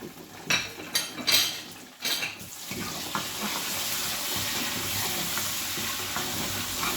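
Tomato goes into light-brown onions frying in a pan, opening with a few sharp clattering knocks before a continuous hissing sizzle settles in close by, with no one talking.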